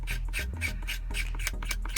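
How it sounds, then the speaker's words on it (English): A file is pushed back and forth along a long metal strip on a workbench to shave off burrs, making quick rhythmic rasping strokes, close and steady, with no talking. "I laid it on the bench here and basically shaved off all the burrs which are on all four sides"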